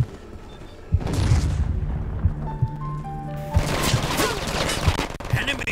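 An enemy frag grenade bursts with a heavy boom in the multiplayer shooter Brink, amid repeated gunfire and other combat noise, loud and close.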